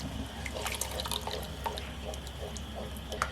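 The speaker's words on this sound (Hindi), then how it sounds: "अच्छे से मिक्स हो गया है तो अब हम इसे दूध में डाल देंगे।" Custard mixture is poured from a container into milk, a quiet close trickle of liquid broken by small drips and light splashes, with no talking.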